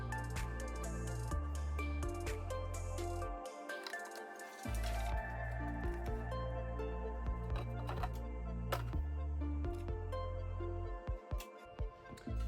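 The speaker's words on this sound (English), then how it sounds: "let's go ahead and top off the crankcase" SAE 15W40 oil glugs and splashes steadily into the crankcase of a Kubota ZD1211 diesel mower, a close, wet squishing pour with short pauses and drips.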